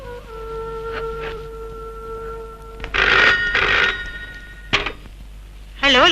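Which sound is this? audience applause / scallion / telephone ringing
telephone ringing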